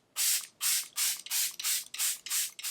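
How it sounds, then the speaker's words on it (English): Charlotte Tilbury Airbrush Flawless setting spray misted onto a face in eight quick, evenly spaced hissing bursts, each about a quarter second long, close and fairly loud with no talking. "Then I'm gonna spray my face with the Charlotte Tilbury Airbrush Flawless Spray."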